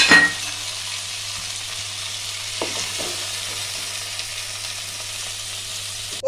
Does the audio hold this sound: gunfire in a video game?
no